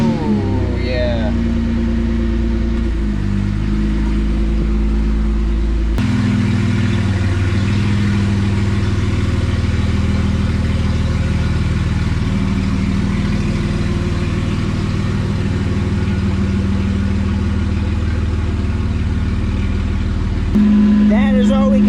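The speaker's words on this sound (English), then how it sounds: "So let's fire her up and back her out." A Toyota Land Cruiser 80 Series engine with a broken exhaust, the muffler and tailpipe separated: it starts, then runs with a loud, deep, raw rumble and some revving, close by, under occasional talk.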